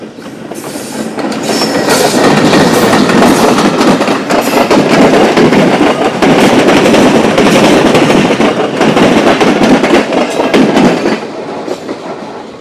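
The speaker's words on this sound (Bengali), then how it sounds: "একটা ট্রেন আসতেছে দেখতে পাচ্ছেন আপনারা" A train arrives at Pakshy railway station, rumbling past close by, loud and sustained, wheels clattering rhythmically on the rails before the noise fades at the end.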